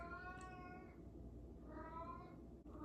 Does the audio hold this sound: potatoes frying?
no